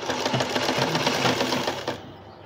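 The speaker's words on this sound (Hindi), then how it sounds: "पीछे की तरफ से इसको हम रख कर इस तरह सिलाई लगाते चले जाएंगे कपड़े को फोल्ड करते हुए।" A sewing machine runs fast and steady, stitching folded fabric around the neckline of a newborn baby dress, its close rapid rattle continuing for about two seconds before stopping abruptly.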